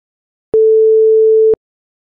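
A pure sine wave tone sounds at one steady pitch for about a second, starting and stopping abruptly, with silence on either side.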